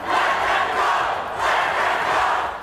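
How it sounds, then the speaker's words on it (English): A crowd of pro-Palestinian protesters at the University of Texas-Austin chants loudly in unison, the rhythmic shouts rising and falling in repeated waves. "chanting for the protesters to be freed and for police to leave"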